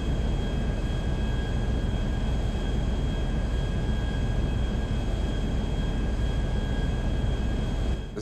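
A Nimbus airplane in Grand Theft Auto V roars steadily as it takes off again right after touching down, a loud, unbroken engine drone with a faint high whine that stays constant throughout.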